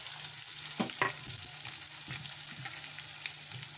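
Chopped onion going into hot oil in a home kitchen pan: a steady broadband sizzle with a few sharp spits and brief scraping strokes, close and fairly loud, with no voices.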